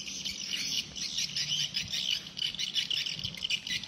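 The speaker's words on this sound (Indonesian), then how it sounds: "Ini dekat gedung walet, kan suaranya walet." Swiftlets chirp near a swiftlet house beside a cucumber field, a dense continuous chorus of high twittering calls heard from a short distance, with faint low rumble underneath and no talking.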